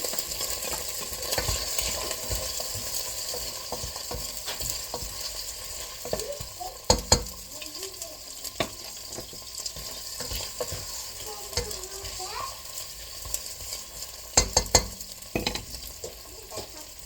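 Onion sautés quietly in a pan, a faint continuous sizzle with occasional clicks and sharper knocks of a utensil against the pan, low and steady throughout.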